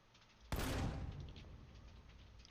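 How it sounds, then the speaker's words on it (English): An anti-tank rifle fires in a video game, one sudden loud blast that rolls into a long, fading boom echoing for nearly two seconds. "Eat an anti-tank rifle round right in your frickin' nose."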